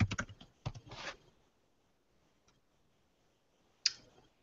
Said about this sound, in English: You're going to hear me typing a bit.